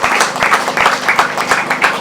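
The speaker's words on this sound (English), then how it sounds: "Big applause there for James." Crowd applause for the second-place rider at a British Masters grasstrack meeting, a dense, loud and continuous patter of many hands with some rhythmic clapping mixed in and no voices over it.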